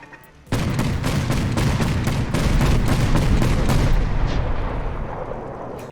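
Anti-tank turrets in Fallout 4 firing a loud, rapid string of heavy booming shots that blend into a sustained roar for several seconds, then fade, with no voices.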